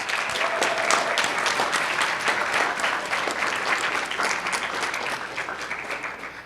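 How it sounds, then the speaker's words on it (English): Audience at a public library community panel event gives a sustained round of applause, dense and even clapping from many hands throughout. "please give yourselves and the panelists another round of applause"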